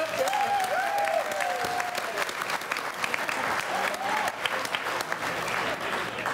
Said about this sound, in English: So, round of applause for that, first of all. And also, a round of applause for looking good.